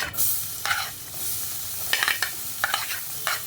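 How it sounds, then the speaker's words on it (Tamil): Onions fry in melted butter with a steady sizzle while a spatula scrapes and stirs across the pan in several close, sharp strokes. "ஃபர்ஸ்ட் வந்து பட்டர் போட்டேன் நெக்ஸ்ட் வந்து ஆனியன்"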